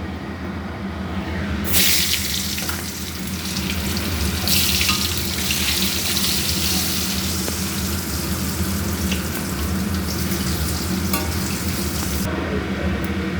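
Continuous sizzle of potatoes frying, rising and falling in intensity, with stirring noises and a steady background hiss, close and fairly loud, no talking.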